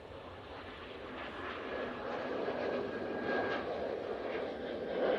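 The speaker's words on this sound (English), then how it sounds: "we've got the British Airways now on the roll" A British Airways Airbus A320neo starts its takeoff roll at Manchester Airport, a moderate, distant jet rumble that builds gradually and holds steady.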